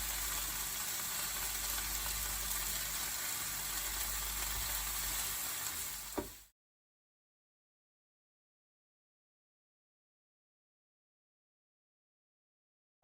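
Mushrooms frying in a pan for a risotto, a steady broadband sizzle for about six seconds, close and even, before cutting to silence.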